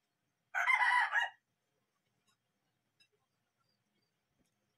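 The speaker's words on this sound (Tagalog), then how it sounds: "Panay, tinaok yung manok guys." Rooster crowing once, a loud clear cock-a-doodle-doo lasting under a second near the start, followed by near silence with only tiny faint clicks.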